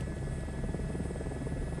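Helicopter in Microsoft Flight Simulator 2024 in flight, a steady low rotor thrum with a constant engine whine, even and continuous at close range.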